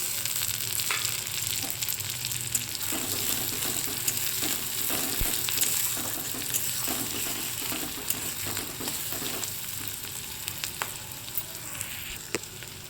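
Tomatoes added to onions frying in oil in a wok, a continuous dense sizzle up close with occasional ladle scrapes and light clinks, no voices.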